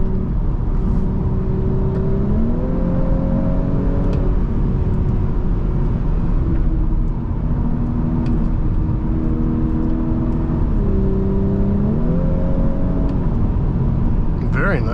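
A 2021 Audi S5 Sportback with the 3.0T engine drives and accelerates, its steady engine drone rising and stepping through gear changes under road noise, close and loud throughout.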